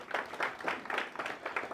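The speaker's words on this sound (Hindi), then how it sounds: "और उनके लिए जोरदार तालियां एक बार" Audience applause at a village awareness rally, with steady, fairly faint clapping from a crowd.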